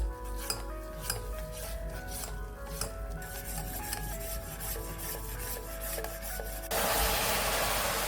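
Sugar caramelising in a pan for a dates cake, stirred with a utensil that scrapes and rubs steadily against the metal, close and continuous with faint clinks, ending in a louder hissing rush.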